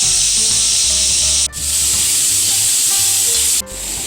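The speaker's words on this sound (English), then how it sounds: "Now I'll add my onions." Onions frying in a hot pan, a loud continuous close sizzle with rubbing stirring strokes, briefly dropping twice as the pan is moved, no speech.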